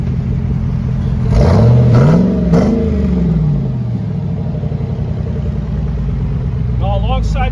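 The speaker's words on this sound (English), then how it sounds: "I want to step on the gas so that you can hear the exhaust." A 2005 Hummer H2 engine revving through its exhaust, one strong rise and fall in pitch followed by a steady loud idle rumble, heard close up.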